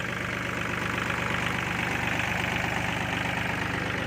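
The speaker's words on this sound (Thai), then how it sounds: "เครื่องเดิมเสียงแน่นๆอยู่นะครับ" A car's original-condition engine idles close by with a steady, firm, even rumble and a fine rhythmic pulse throughout, running alone without any voices.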